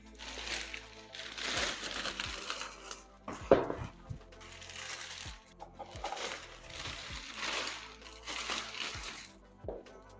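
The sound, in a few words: large plastic bag crinkling while unpacking electric scooter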